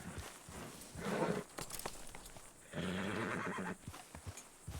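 A horse in a Western-style video game neighs twice, long whinnies with hoof clip-clops and footstep sounds between them, close and fairly clear with no talk.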